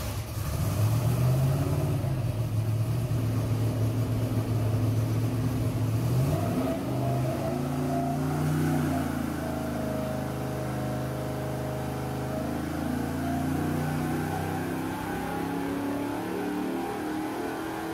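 An all-aluminum 5.3-liter LS V8 with a Brian Tooley Racing Trinity intake manifold and 102mm throttle body running on a dyno, its loud engine note sweeping up steadily in pitch as it revs toward high RPM.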